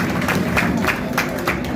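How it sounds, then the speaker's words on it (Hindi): An audience at a cricket league opening ceremony applauds a team with steady, moderately loud clapping that carries a faint crowd murmur underneath. "आप लोगों की भरपूर तालियां एक दफा होगी उस टीम के लिए।"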